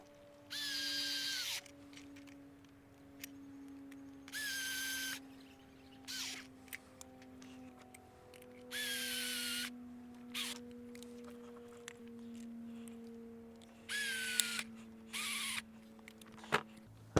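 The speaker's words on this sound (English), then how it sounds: "Using a screwdriver and some kind of pliers or a spanner to hold these bolts at the back, we're just going to do them up" Bolts are tightened onto a bracket during a REDARC BCDC dual-battery install on a Toyota LandCruiser 300 Series, heard as about five separate bursts of a powered driver's rising whine with quiet pauses and a low steady hum between them.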